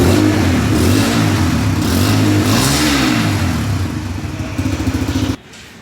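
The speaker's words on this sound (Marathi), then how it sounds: "इथं तुम्हाला मी इथं साऊंड ऐकवतो गाडीचा कसा तो." A Bajaj Freedom 125 motorcycle engine idles and revs indoors in a showroom, loud and close, rising and falling in a couple of swells before cutting off abruptly near the end.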